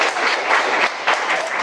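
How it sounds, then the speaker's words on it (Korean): A seated audience at an economics lecture breaks into loud, close applause, with many hands clapping in a dense, steady patter that holds without letup. Nobody speaks. "박수 한번 부탁드립니다"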